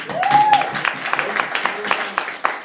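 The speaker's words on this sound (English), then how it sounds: "a round of applause to them" Applause from a stand-up comedy audience for the earlier performers, a dense patter of clapping with a few louder claps and a voice briefly audible over it.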